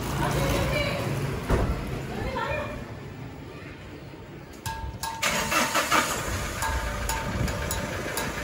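A Mahindra Scorpio that has been having trouble cranks and catches near the middle, then settles into a rough idle nearby, while people talk over the engine throughout.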